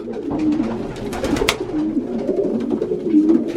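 Young pigeons at a feeding trough, about forty birds, with steady soft cooing and murmuring over scattered pecking and fluttering, close by and continuous, with no talk.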